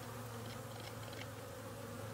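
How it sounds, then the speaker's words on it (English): Honeybees hum around the entrance of a hive on a mild winter day after the entrance reducer was removed, a soft, continuous swarm drone with a few closer buzzing passes. "Bees are a lot more active on this hive."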